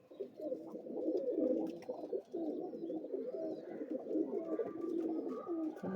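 Pigeons of a fancy breed coo steadily, close by, in a dense, continuous low murmur of overlapping calls with no talking.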